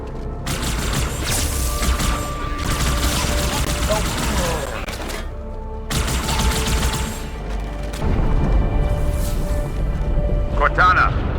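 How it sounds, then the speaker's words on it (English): Explosions and sustained gunfire fill a Halo 2 battle aboard Cairo Station, loud and continuous with booming impacts and rapid shots, while voices talk over the combat. "That explosion came from inside the Athens, same as the Malta."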